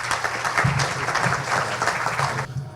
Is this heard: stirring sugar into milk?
no